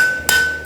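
Two sharp, close metallic taps from a ball peen hammer on a heated forged knife blade, with a steady ring sustained between the blows.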